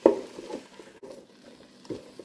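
Salted vegetables and garlic being stirred in a Ninja Speedi cooker, a close scraping stir that opens with a louder scrape and then carries on in soft, uneven strokes.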